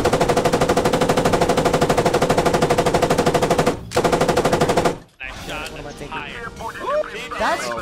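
Sustained rapid machine gun fire in a BMP Boiz video game match, loud and steady for about five seconds with one brief gap, then cut off and followed by talking.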